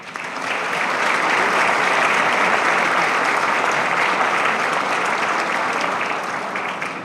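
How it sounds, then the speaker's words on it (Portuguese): An audience gives sustained, dense applause honoring retirees at a formal solemn session of the Ceará public prosecutors' college, swelling quickly and holding steady for several seconds before beginning to taper. "pedir uma salva de palmas"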